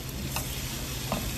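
Onion and king oyster mushrooms stir-fry in oil with a steady, close sizzle throughout. Faint scrapes of stirring come through the frying.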